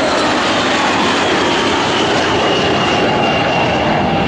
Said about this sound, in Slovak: TU 154M a po stranách dve stíhacie lietadlá MiG-29